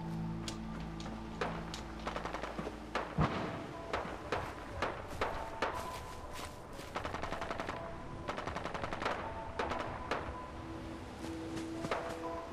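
Distant gunfire in Fallout 4 (Far Harbor), faint rapid bursts of automatic shots repeating in clusters across the whole stretch over a low ambient hum, with a steady tone fading out early.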